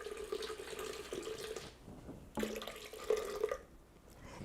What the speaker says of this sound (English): I'm gonna put some more water in, and then we'll do it a little bit longer.